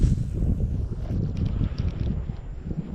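Gusting north wind buffets a small fishing boat drifting on a lake in autumn, a steady low rumble of wind noise with faint water lapping, loud and close throughout with no talk.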